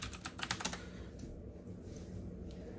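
Quick bursts of keystrokes on a computer keyboard, a short run of clicky taps close by, followed by quiet room tone.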